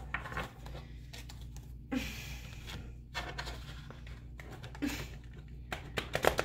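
Large tarot cards are shuffled by hand in repeated soft rustling and riffling bursts, close and fairly quiet over a low background hum.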